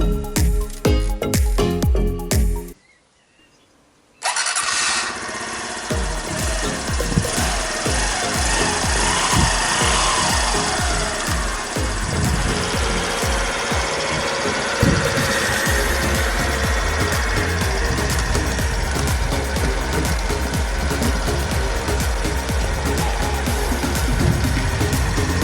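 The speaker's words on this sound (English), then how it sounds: "So let's turn our motorcycle on." A Honda Super Cub 50cc EFI motorcycle engine with stock exhaust sputters briefly, cuts out, then starts and runs steadily at a loud, buzzy, rattling idle close by.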